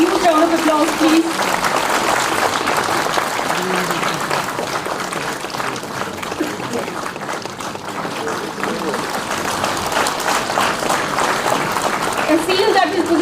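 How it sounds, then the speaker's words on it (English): Steady applause from an audience at a World Craft Council inauguration in Srinagar, with a dense wash of clapping lasting throughout. A few voices are heard near the start and end. "Huge round of applause, please."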